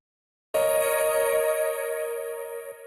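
Audio processed through Decapitator distortion, redux and reverb starts abruptly after half a second of silence, then holds as a bright, glitchy sustained tone that slowly fades.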